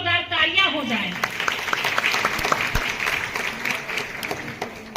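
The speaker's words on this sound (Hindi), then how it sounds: "इनके लिए भी जोरदार तालियां हो जाए" A women's gathering at the Saptshakti Sangam art event breaks into loud, sustained applause from a seated audience, with someone speaking briefly at the start before the clapping fills the room.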